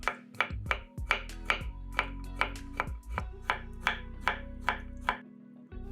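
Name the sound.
chopping pickled cucumbers into slices then cubes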